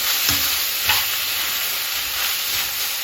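Cooked ground meat with peas being stirred and fried in a pan, a soft steady sizzle with a few faint scraping stirs at intervals, close by and without talk.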